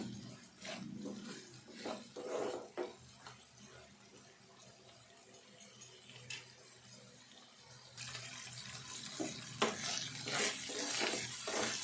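Onions with ginger-garlic paste frying in a pan for Telangana chicken pulusu, a soft sizzle broken by repeated stirring scrapes, growing louder and brighter in the last few seconds.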